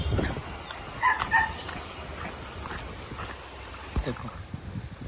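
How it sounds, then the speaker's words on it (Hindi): Tony, a pet dog at a home in Goa, gives a few short barks and whimpers close by, mixed in with people talking in the background. "टॉनी भौंक रहा है।"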